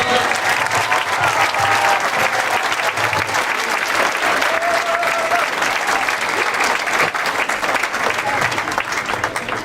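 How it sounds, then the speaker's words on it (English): A closing ceremony audience bursts into sustained, dense applause that fills the whole stretch at a steady loud level, with a few faint voices and cheers mixed in among the claps. "So let's give them a nice round of applause."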